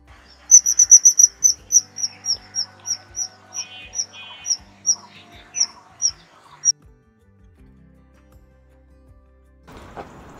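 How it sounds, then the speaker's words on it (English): A kingfisher calls in a rapid series of thin, high-pitched whistles repeating in a steady sequence, then stops, leaving quiet with a faint rustle at the end. "a kingfisher's call isn't so impressive."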